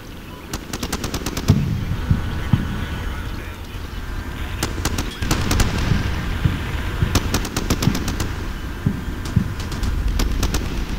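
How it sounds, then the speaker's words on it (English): Artillery barrage on a trench in the video game Combat Mission: Shock Force: repeated sharp blasts and clusters of rapid crackling impacts over a continuous rumbling battle din. "I'll soften it up with some artillery"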